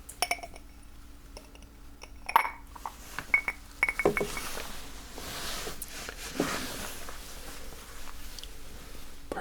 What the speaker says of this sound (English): we want a nice, big cube of ice to help keep it cold for you.